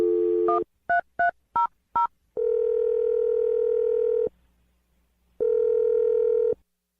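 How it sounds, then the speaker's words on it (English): A telephone call placed during a radio show: a quick series of short keypad tones as a number is punched in, followed by two long, loud ringing tones separated by a silent pause. "I'm going to dial the phone number right now."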